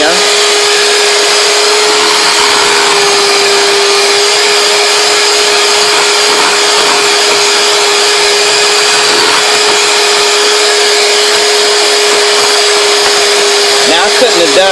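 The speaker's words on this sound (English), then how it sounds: "So that's the reason why I pulled out the mixer." An electric hand mixer whirs loudly and steadily at constant speed, beating pound cake batter, running continuously throughout.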